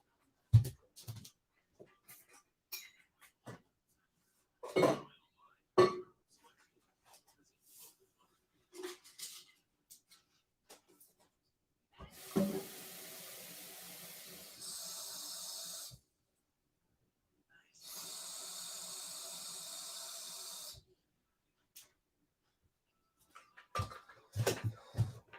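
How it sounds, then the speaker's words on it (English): A water bottle being refilled with Pedialyte gives two sustained hissing pours of a few seconds each, separated by a short pause, among scattered soft handling clicks and knocks. "as I was putting more Pedialyte into my water bottle"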